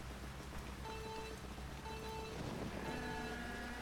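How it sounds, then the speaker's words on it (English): Rain falls steadily on a Mario Kart 8 Deluxe race track, a constant broadband hiss that lasts the whole stretch beneath tonal game music and kart sounds. "Why is it raining so much water"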